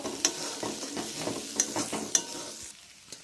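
Egg masala with ground coriander, cumin and garam masala stir-fried in a pan, a soft sizzle with rhythmic spatula scrapes and three sharper clinks, close but fairly quiet, easing off near the end.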